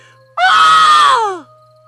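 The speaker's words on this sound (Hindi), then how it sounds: "चुड़ैल चीखने लगी," A witch's scream used as a horror sound effect, one loud, sustained, wavering shriek lasting about a second before trailing off into near silence.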